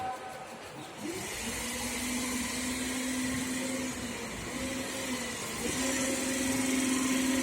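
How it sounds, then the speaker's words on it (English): A DC shunt motor coupled to a self-excited DC generator is started with a 3-point starter, its hum rising after a second and settling into a steady whine that climbs slightly in pitch as it speeds up. "So then I first start the motor by using this starter."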